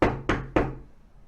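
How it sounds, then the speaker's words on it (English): Three sharp knocks on a door in an even, quick rhythm, close and loud, each with a brief dull ringing decay and no voices. "they practically do come knocking at your door"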